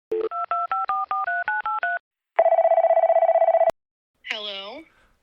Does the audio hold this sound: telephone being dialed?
yes